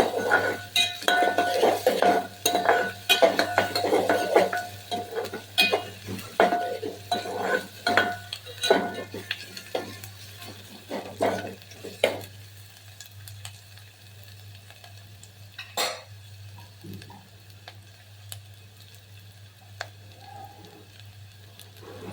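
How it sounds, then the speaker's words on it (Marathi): Chopped onions sautéing in oil in a pan for a chicken curry, with a spatula repeatedly clinking and scraping against the metal. The irregular clatter starts busy and thins out into sparse knocks over a low hum. "मस्त त्याला पण चांगलं परतून घेते कांद्याला देखील"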